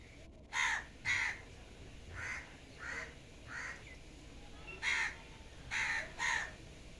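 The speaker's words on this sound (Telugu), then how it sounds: "కాకులతో నీళ్ళు తాగుతా ఉండే" Several crows caw in short separate bursts, some paired, spread across the clip at moderate distance over low ambient noise, near houses beside a church under cloudy skies.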